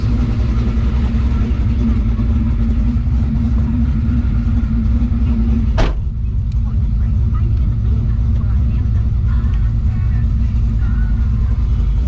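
A 650 hp 1971 Chevrolet Camaro split bumper runs steadily throughout, a loud, close, deep rumbling engine drone with one brief sharp click midway, no talk over it.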